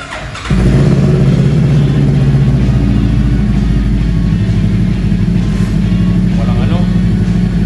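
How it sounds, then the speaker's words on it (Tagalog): A motorcycle engine idles steadily right after an oil change with premium ENOC oil, a loud, close, even drone with the muffler note prominent and no revving. "Pakinggan natin yung motor."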